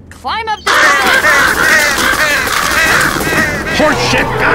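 Crows caw repeatedly amid loud action in the zombie shooter Left 4 Dead 2, harsh calls overlapping with game noise and shouting voices.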